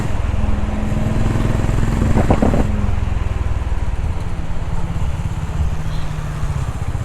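Honda H'ness 350 motorcycle engine and exhaust running steadily on a road, a continuous loud rumble with a brief sharper burst midway, mixed with traffic and faint voices.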